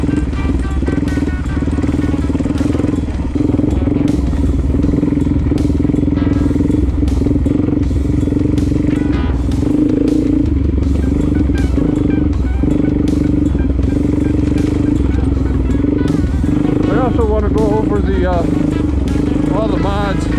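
A 2020 Suzuki DRZ400S dual sport motorcycle ridden along a rough road, its single-cylinder engine droning steadily and loudly up close throughout, with constant clatter from the bumpy surface and brief rev changes.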